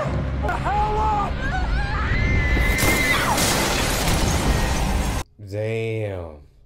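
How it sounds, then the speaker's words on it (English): Glass shattering in a TV drama scene, a loud crash and scatter of debris amid shouting and agitated voices, followed by a brief pause and then a voice speaking alone. "She blew all the glass out."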